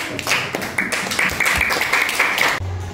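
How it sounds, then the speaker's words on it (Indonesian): Students in a classroom clap for a group of classmates, a short burst of dense, fairly close applause lasting a few seconds before cutting off abruptly. "Kita berikan tepuk tangan untuk kelompok 1"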